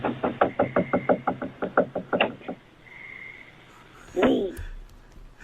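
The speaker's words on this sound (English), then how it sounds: "as they scratch and knock on the back door" Knocking on a back door at night: a quick run of about a dozen sharp raps over two seconds, then a pause with a faint tone and a brief scraping, scratching sound near the end.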